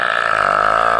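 One long, loud, sustained burp with a steady buzzing tone, produced using the Guinness World Record burping method, heard alone for about a second.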